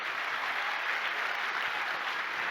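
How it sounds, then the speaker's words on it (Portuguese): An audience gives a round of applause for a presented team at a big-data talk, a dense, even clapping wash that continues without a break. "uma salva de palmas para eles, por favor"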